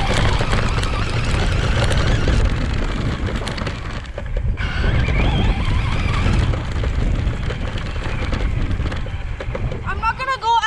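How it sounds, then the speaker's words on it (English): Small RC car motor whining and rumbling loudly nearby, with a brief dip mid-way before it picks back up, while a person talks over it. "I'm gonna show you the video of my RC driving"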